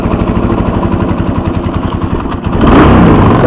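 A 4-stroke dirt bike engine idles loudly and close with a rapid, even chugging thump, then rises into a rougher, louder throttle blip near the end.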